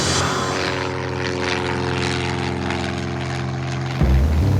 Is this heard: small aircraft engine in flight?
yes